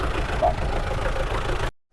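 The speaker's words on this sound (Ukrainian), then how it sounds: "Заглушив двигун, щоб не торохтіло." An MTZ 892 tractor's diesel engine idles with a steady low rumble and knocking chug, close by, then cuts out abruptly into silence after about a second and a half.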